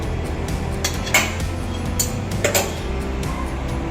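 A kadai is set down on the stove and ghee poured in while making a wheat flour sweet, with metallic clinks and clanks of cookware over a steady kitchen background hum, close and fairly loud, no speech.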